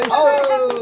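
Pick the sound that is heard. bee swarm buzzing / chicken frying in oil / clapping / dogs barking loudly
clapping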